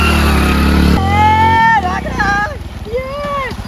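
A motorcycle engine runs close by with a low, steady drone that eases off partway through, while people talk and call out over it.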